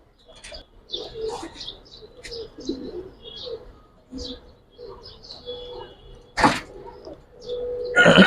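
Pigeons at a Bangladeshi pigeon seller's home, Giribaz, silver makhra, musaldom and army breeds, cooing and chirping in scattered bursts at close range, with a louder rustle or clatter near the end and no talk.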